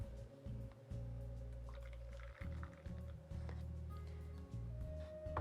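Caffe latte poured from a container, a soft liquid trickle and drip in short bursts over a steady low background hum, no voices.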